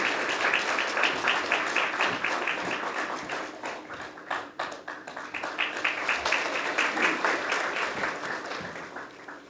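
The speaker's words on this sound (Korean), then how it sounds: "큰 박수로 최공경 회장님을 맞아주시기 바랍니다" Sustained applause from an audience welcoming a speaker at a public hearing on judicial reform, steady dense clapping that dips briefly in the middle and then swells again.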